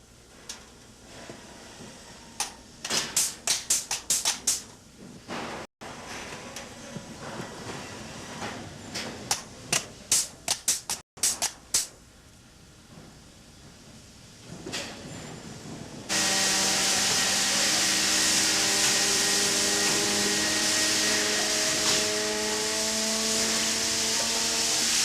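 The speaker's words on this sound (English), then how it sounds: "this pneumatic machine" A pneumatic machine flanges a gas tank membrane during tank construction on a gas carrier, giving sharp, irregular hisses and clacks in clusters, followed by a steady, loud continuous hiss with a tonal hum in the final stretch.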